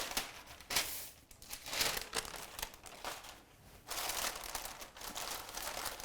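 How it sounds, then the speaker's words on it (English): Parchment paper crinkles and rustles in bursts of crackling handling noise, close by, with no talking. "we're going to put another layer of parchment paper on top"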